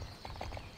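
Horse hooves clip-clopping in the Barbie Horse Adventures: Riding Camp video game, a brief, faint run of rhythmic hoofbeats under a low background hum.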